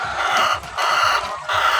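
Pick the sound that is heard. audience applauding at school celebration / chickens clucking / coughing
chickens clucking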